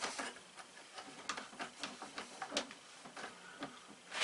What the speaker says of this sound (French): On serre la bride.